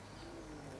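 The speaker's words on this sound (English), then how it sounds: "that pigeon up there will not shut up" A soft, low pigeon coo, faint and brief, over a steady background hum.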